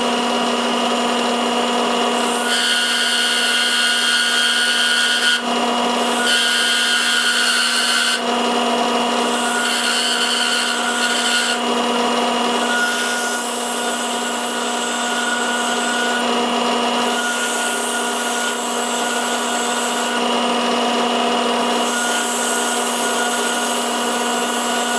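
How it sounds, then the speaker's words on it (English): Small parting chisel cutting a fine groove into a maple honey dipper on a lathe, a loud continuous whirring drone with repeated brief changes in tone as the tool engages and lifts. "I've just got a small parting chisel to put a fine groove in there"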